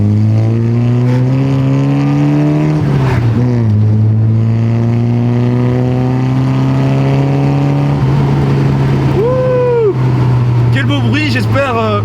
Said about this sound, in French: On va essayer de faire un petit peu crier le moteur.